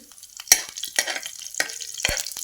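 Curry leaves hit hot oil in a pan while making brinjal chutney, giving sharp crackling pops and bursts of sizzle at irregular intervals, close and fairly quiet with no talk.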